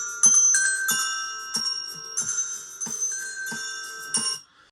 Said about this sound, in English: what this bell is a small children's xylophone